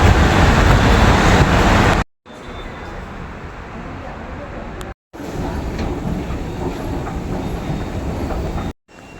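Bengaluru metro train riding toward Majestic station, a loud steady rumble with rail clatter heard from inside the carriage, broken by a few brief cuts.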